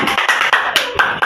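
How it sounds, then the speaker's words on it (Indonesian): Applause for Carla in a classroom lesson on the five daily prayers: a short burst of uneven clapping, several quick claps in a row, close and fairly loud. "Tepuk tangan untuk Carla."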